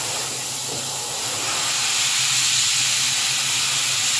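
An airbrush being cleaned out blows a steady, loud hiss of air with no break, alone and close.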